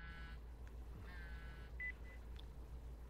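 A mobile phone rings in the Yakuza 5 game, a few short electronic beeping tones at moderate volume over a steady low background hum, with no talking.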